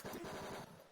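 Machine gun fire from the game Tex Murphy: Mean Streets, a rapid, dense burst of low-fidelity retro shots lasting under a second, moderately loud and alone.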